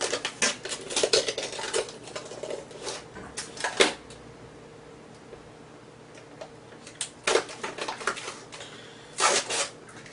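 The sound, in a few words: breaking away trimmed pieces of self-adhesive luxury floor tile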